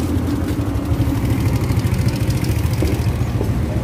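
A moped engine runs steadily beside a restored Corsa pickup, a continuous close mid-to-low idle with a busy rattling texture and no talk over it.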